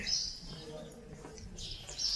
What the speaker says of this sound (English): all you're going to hear is the birds cheeping above us